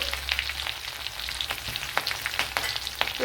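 Mustard seeds fry in hot oil with a fairly quiet, crackling sizzle and scattered sharp pops over a low hiss.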